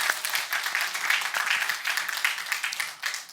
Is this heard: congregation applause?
yes